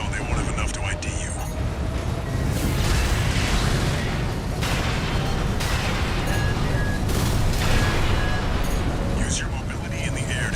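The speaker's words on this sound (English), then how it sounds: "Use your mobility in the air to get clear of explosion" Explosions and gunfire roar continuously from an Armored Core VI mech battle, loud, dense booms and bursts layered over a sustained rumble with no pauses throughout.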